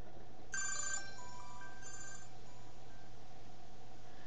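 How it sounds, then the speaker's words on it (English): An LG 430G flip phone plays its ringtone, a short electronic melody of bright tones starting abruptly and fading over a couple of seconds above a steady background hum. "you're going to hear my ringtone."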